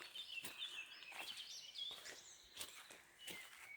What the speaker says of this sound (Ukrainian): а пташки.